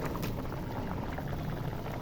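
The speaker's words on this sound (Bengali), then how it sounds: "ঢাকনা উঠে দেখি, বলক চলে এসেছে" Water comes to a rolling boil in a covered pot of egg and potato curry, a continuous close bubbling and simmering hiss with no talk.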